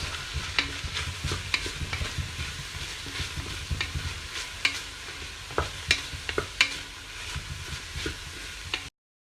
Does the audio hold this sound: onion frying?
yes